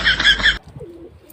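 A pigeon gives a short, loud, close-up burst of throaty cooing that cuts off abruptly, followed by quiet low background noise.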